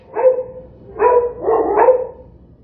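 Pugs barking, three or four close, clear woofs in a quick burst with brief gaps between them.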